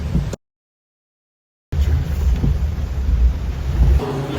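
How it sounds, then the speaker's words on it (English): Steady rain patters outdoors with a broad hissing wash and low rumble, briefly cut by a gap of silence before resuming. "It's raining."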